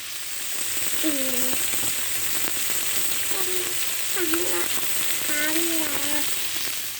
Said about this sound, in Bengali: দেখেন মাছ আমি ভেজে নিয়েছি